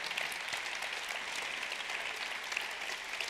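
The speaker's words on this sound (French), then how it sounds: "je voudrais qu'on l'applaudisse très cher" Sustained audience applause at a round-table event fills the room, an even wash of many hands clapping at moderate distance for several seconds.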